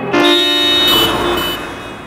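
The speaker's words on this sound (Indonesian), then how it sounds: "klakson-klakson serentak membentaknya." Several car horns blare together in one sustained, loud, steady chord that holds for about a second and a half and then fades out, with no voices.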